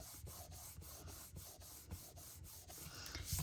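Paper card stock is rubbed on its back in quick, regular strokes, a dry close scratchy swish repeating about every third of a second, with no talking.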